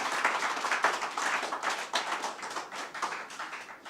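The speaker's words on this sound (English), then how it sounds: "You can clap your hands for yourselves for the victory that awaits us." An audience at a political flagbearership campaign launch applauds, a dense patter of many hands clapping at steady volume for several seconds.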